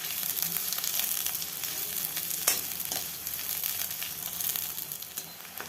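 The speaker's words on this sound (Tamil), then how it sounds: "எண்ணெய் காஞ்சோன்னு ஒரு 3 பெரிய வெங்காயம் கட் பண்ணி வச்சுருக்கோம். அதை கூட சேர்த்து நல்லா வதக்கி விட்டுறலாம்." Sliced large onions sauté in hot oil for roadside-style egg noodles, a dense steady sizzle up close with occasional stirring scrapes and one sharper clatter.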